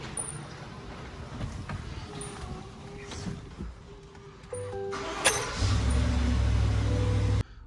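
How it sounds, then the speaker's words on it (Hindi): A car is driven out of a garage, its engine idling and then moving off with small clatters and jingling along the way, ending in a louder, steady engine hum before a sudden stop. "तो भाई साहब हमने लगा दिए गाड़ी घर के बाहर।"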